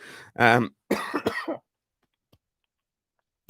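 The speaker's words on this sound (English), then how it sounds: "That's a weed cough." A few harsh coughs close up, followed by a throat-clearing burst, then quiet apart from a couple of tiny clicks.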